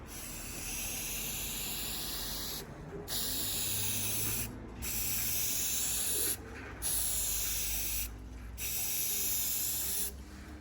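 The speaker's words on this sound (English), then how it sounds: "I'm gonna spray paint it black and see how it goes." Bursts of aerosol spray paint applied to black car side louvers on a Subaru BRZ, five sustained hissing sprays of about two seconds each, separated by short pauses, close and steady, with no voices.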